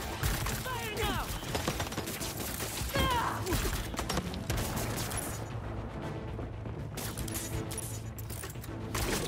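Rapid gunfire bursts in the Marvel's Spider-Man 2 video game, loud and continuous over a dense mix of game music, effects and voices talking throughout.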